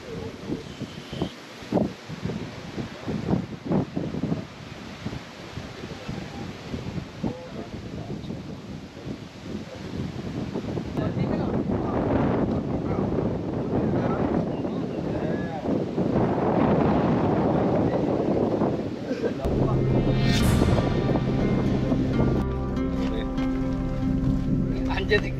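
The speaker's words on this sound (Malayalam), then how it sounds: "കാരണം നല്ല ഹെവി കാറ്റുണ്ട്." Heavy wind sweeps across a misty hilltop in the Kakkadampoyil hills, a loud, steady roar and buffeting rush that grows stronger partway through, with a voice heard at times.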